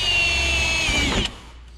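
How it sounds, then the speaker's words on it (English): Power drill boring a hole through the plastic rear fender of a Polaris RZR during a mud flap install, a steady high whine that strains and then cuts off as the bit breaks through. "So then, you can drill your first hole."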